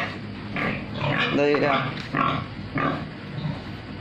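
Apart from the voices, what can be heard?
breeding sow pig grunting in farm pen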